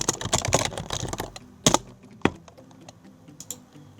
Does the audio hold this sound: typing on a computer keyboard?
yes